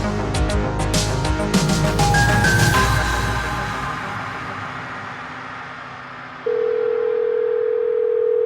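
A steady telephone tone comes in at about six and a half seconds and holds to the end. Before it, a fading wash of music and ambience plays, with no one speaking.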